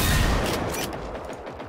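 A brief, loud crackle of gunfire in Generation Zero, a dense cluster of shots that trails off within a second or two.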